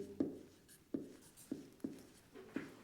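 Writing on a board during a physics lecture on electric potential produces five or six sharp, evenly spaced strokes. Each tap is crisp and near, with soft scraping trailing after it in a quiet room.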